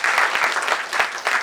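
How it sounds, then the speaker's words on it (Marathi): An audience at a book launch on India's maritime security bursts into dense, close applause that carries on steadily throughout. "जोरदार टाळ्या सरांसाठी झालं पाहिजे"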